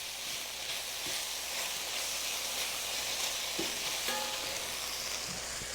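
Beef, peppers and green onions stir-frying in a hot pan, giving a steady loud sizzle with occasional scraping clicks from stirring, with no voice over it.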